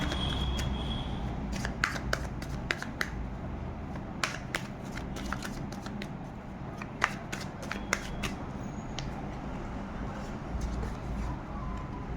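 Tarot cards being shuffled and handled, a soft continuous rustle with repeated crisp flicks and snaps at close range over low background noise.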